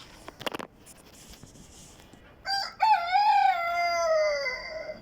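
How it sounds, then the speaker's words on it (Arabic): An ornamental rooster on a farm crows once, loud and close, a long rising then falling call held for about two seconds after a few soft clicks and rustles. "شوفوا هذا الديك مال الزينة قاعد يصيح وياه."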